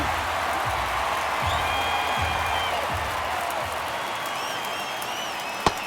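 Steady stadium crowd murmur fills a baseball video game broadcast, MLB The Show 24, with Miami at Tampa Bay in a close ninth inning, a continuous loud wash with a sharp crack near the end.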